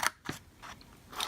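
Scissors trimming paper for a soap box, a few quick crisp snips spaced out over a second, close and fairly clear.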